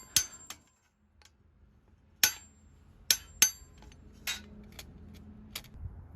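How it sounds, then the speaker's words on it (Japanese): A hammer strikes a bent metal J-rail from a vintage camper trailer, a few sharp metallic bangs spaced irregularly with short ringing decays and quiet gaps between them. "叩いてできるだけ元に戻す努力をします。"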